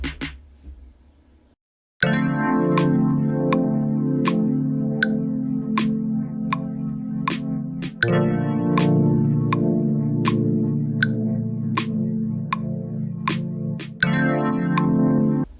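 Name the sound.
lo-fi snare drum sample in Ableton Live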